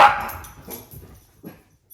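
Pet dogs give one sharp close bark followed by a few softer yips and whines that fade into quiet household stillness.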